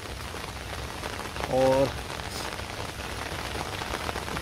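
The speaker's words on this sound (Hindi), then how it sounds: "आप देख पा रहे होंगे बारिश कंटिन्यूस चल रही है," Heavy monsoon-style rain has been pouring nonstop for about two days in India, making a steady, dense hiss on surfaces throughout, with a short spoken word briefly heard over it.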